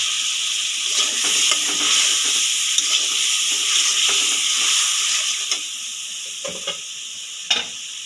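A pan of chilli, salt and turmeric masala sizzles steadily as a splash of water hits it, with scraping stirs and a few sharp clicks of a spoon against the pan.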